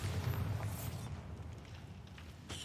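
Explosive Confringo and Bombarda spells in the video game Hogwarts Legacy, with a low rumbling boom and blast noise at the start, fading into a sustained roar, then another burst near the end.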